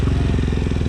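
A motorcycle engine runs close by, a loud rapid pulsing throb with steady even beats and no voices.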